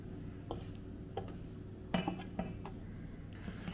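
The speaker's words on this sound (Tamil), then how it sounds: "இதை வந்து ஒரே டைரக்ஷன்லேயே போட்டு மிக்ஸ் பண்ணிக்கோங்க" Sifted flour being folded into whisked egg batter for a plain vanilla sponge cake, with a few soft, scattered clinks of a utensil against the mixing bowl over a low, steady background hum.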